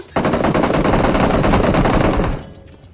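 Gunfire in the PUBG Mobile video game: a loud, rapid machine-gun burst lasting about two seconds, then stopping abruptly.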